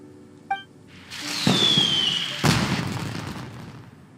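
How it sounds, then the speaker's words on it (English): A video game explosion in Genshin Impact: a sharp pop, then a loud booming blast with a rushing whoosh, followed by a second bang and a fading crackling rumble. "Did you hear that explosion? Maybe it was fireworks."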